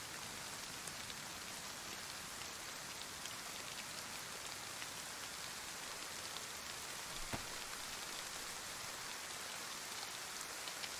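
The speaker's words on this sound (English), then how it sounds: "It's definitely raining now." Rain falling in the DayZ video game, heard as a steady, dense hiss of rain on surfaces, even and constant throughout with no talk.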